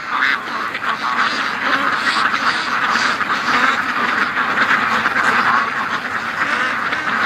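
A flock of ducks quacks loudly and continuously in an outdoor yard as rain begins, the dense overlapping calls filling the whole stretch without pause.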